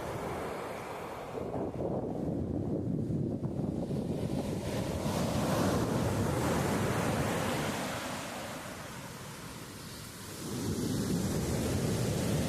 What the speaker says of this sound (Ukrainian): Тут волны огромные.